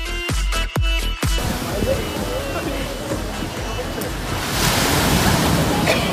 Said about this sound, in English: ocean waves extinguished her hotness at the wrong time.